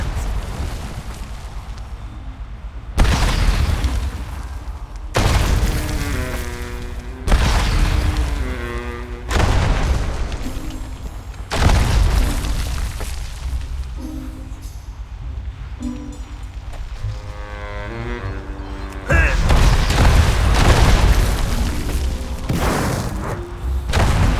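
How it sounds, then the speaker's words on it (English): Mine explosions go off in a World of Warcraft goblin minefield, a series of heavy booming blasts repeating every few seconds, loud and close, with game sounds in between and no talk. "Traverse the minefield and retrieve the refreshing coconut beverage at the center. You needn't worry about the mines. The X-52 will provide adequate protection from the explosions."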